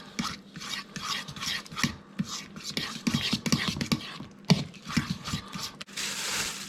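Ground turmeric being stirred into a dry spice mix in a bowl, a soft continuous scraping and rubbing with irregular strokes, close and fairly quiet.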